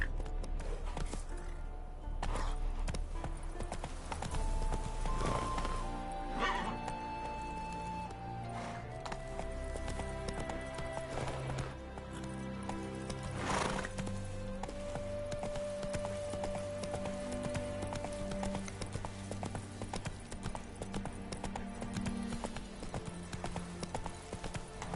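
Roach the horse canters in the Witcher 3 video game, hooves clip-clopping in a rapid repeating rhythm under soft background music with occasional held tones.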